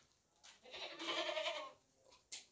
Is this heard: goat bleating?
yes